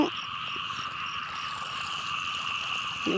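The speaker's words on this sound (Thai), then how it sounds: "เสียงกบเสียงเขียดได้ยินบ่พี่น้อง" Frogs croak in a rainy rice paddy during planting, a dense steady chorus of overlapping calls that runs unbroken at a moderate distance, with no talking.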